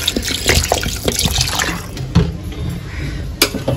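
Water poured into a pot of mutton and partly cooked goat head, splashing and trickling steadily for a few seconds, close and fairly loud, with no talk.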